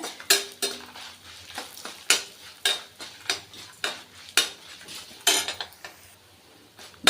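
Dal and red chillies dry-roasting in a pan for curry leaf thogayal, a spoon repeatedly scraping and clinking against the metal in an uneven rhythm of close, sharp strokes with no talking.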